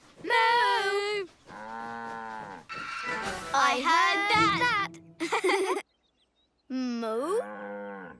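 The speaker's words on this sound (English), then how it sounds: "Do tractors moo? No, but cows do." Cartoon cows on a farm in a children's animated engine show give several drawn-out, close moos, separated by gaps, alongside voices talking.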